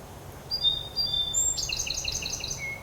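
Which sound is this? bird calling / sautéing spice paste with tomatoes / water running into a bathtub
bird calling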